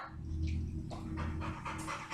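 A dog pants steadily near a door, rapid breathy huffs heard close up over a low hum, with no voices.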